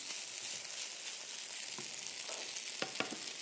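Fish fries on a home stove with a steady, bright sizzle throughout, a few soft clinks and stirring sounds surfacing near the end.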